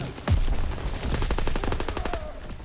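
Rapid machine-gun fire in a WW2 war video game, a steady run of loud repeated shots with a few heavier bursts, and no talking over it.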